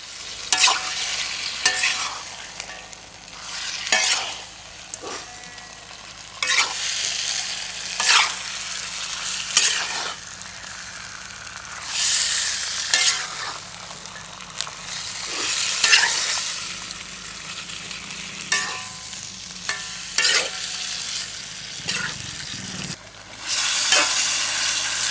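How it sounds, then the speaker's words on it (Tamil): Quail meat frying in a pan with turmeric, stirred again and again: a steady sizzle broken by repeated scraping strokes of the spoon, close and with no talking. "இப்போ கறியை இன்னொரு வாட்டி நல்லா கலக்கிக்கலாம்."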